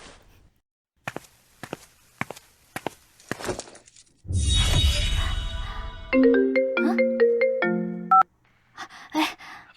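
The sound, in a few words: phone ringtone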